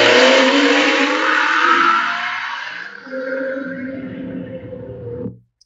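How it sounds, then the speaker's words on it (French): AI-generated sound of a fast car on a highway, a loud continuous engine roar and whoosh that slowly fades as it passes, then cuts off abruptly. "j'ai intégré, importé une vidéo de voiture rapide sur autoroute"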